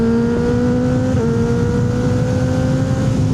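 A Kawasaki Ninja ZX6R (636) engine drones at steady high revs on a back road through trees, a loud continuous close whine with a slight pitch shift, wind rush over the microphone.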